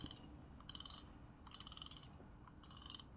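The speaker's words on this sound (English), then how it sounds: "A decent sound that it makes if you're going to get a line pull." Fishing reel drag ratchets in quick bursts of rapid clicking as line is pulled, three short runs over faint background hiss, quiet and close.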